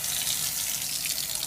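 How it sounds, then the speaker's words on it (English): A kitchen faucet over a sink with a garbage disposal pours water in a steady, loud hiss that holds even throughout. "I'm going to turn on the water"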